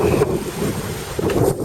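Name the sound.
strong wind on a sailboat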